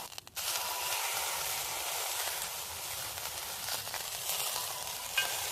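Beef sizzling in a deep cast iron pan on a portable camp stove outdoors, a loud steady crackling hiss that starts abruptly and continues evenly throughout.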